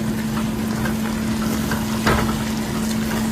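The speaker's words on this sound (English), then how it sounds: "as soon as I add the vegetables, I'm just going to go ahead and stir it in" Fresh vegetables stirred into a hot frying pan give a steady sizzle, with a low constant hum underneath and one louder scrape of the spoon against the pan near the end.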